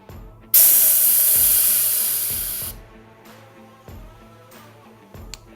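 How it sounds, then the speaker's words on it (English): Pressure release valve on a BrewBuilt X1 Unitank homebrew fermenter hissing loudly in one sustained burst of about two seconds, followed by quieter clanks and handling sounds. "I'm just gonna pull the pressure release valve a couple of times."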